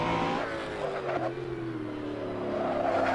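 A Koenigsegg One:1 engine pulls hard in the Assetto Corsa video game, its revving tone climbing through a gear and continuing to rise, loud and close throughout.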